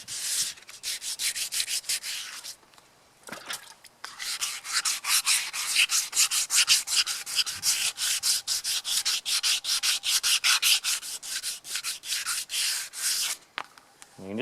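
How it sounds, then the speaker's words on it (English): Sanding primer and filler on the steel wheel rim of a Ferguson FE35 tractor, a loud, close rasping rub in rapid back-and-forth strokes, steady and rhythmic with a couple of brief pauses. "Now once I've sanded this whole rim, let it dry, I'll move on to the other one"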